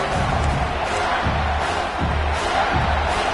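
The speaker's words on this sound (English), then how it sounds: "the crowd coming to life here, trying to help this defense down in the red zone" A football stadium crowd at USC vs Washington roars in a loud, sustained swell with pulsing low surges, filling the whole clip as the home fans try to lift the defense in the red zone.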